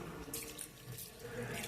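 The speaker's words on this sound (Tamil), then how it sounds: "ஒரு 1/4 கப்பு தண்ணி சேர்த்துக்குவோம்." Water pours into a pan of chicken thokku, a brief faint splashing trickle with no voices.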